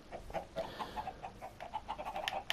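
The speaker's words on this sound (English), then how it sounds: "Got a lot of chickens in here." Minecraft chickens cluck softly in a farm pen, a quiet run of short, repeated clucks close together with no speech.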